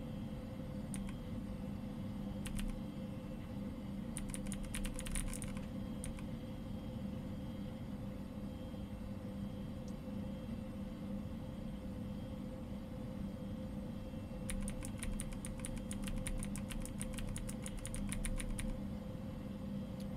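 Bursts of key clicks from typing on a keyboard in the horror video game Fears to Fathom: Woodbury Getaway, coming in a few quick clusters over a steady low hum, with no talking.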